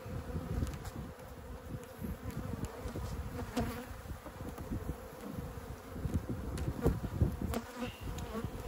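A dense, steady drone of agitated honey bees swarming around an open hive, close and continuous with no voices, a few individual bees whining louder as they pass near.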